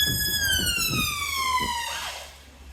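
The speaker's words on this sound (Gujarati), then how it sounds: "એમ્બ્યુલન્સ આવી ગઈ" An ambulance siren on a Mumbai street, a loud descending wail that sweeps down in pitch as the vehicle passes close by, fading out at the end over faint background chatter.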